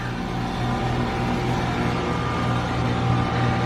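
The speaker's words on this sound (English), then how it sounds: "Excuse the noise from the AC." A steady, unbroken mechanical hum with a low droning tone, like an air conditioner running nearby, continuing evenly with no voices.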